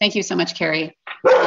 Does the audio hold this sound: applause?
no